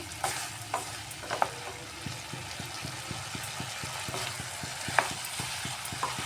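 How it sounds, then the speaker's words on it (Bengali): Kohlrabi and potatoes with seeds are stir-fried in a pan, giving a constant sizzle broken by regular scraping strokes of a spatula, close and fairly loud. "বিচিগুলা দিয়েও সবজির সাথে একটু ভালোভাবে কষিয়ে নিচ্ছি"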